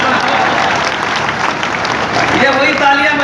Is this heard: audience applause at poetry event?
yes